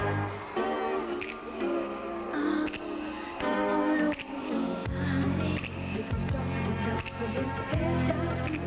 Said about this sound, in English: What you're hearing is the new theme song for Billy Jack Haynes.